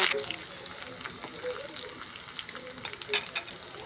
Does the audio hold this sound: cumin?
yes